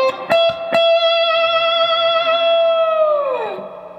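Slide electric guitar plays the opening lick of a song, a few picked notes leading into one long sustained slide note that bends downward at the end, close and clear with no talking.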